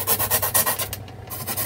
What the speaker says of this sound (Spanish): vamos a comenzar a lijar para darle mejor forma de la cabecita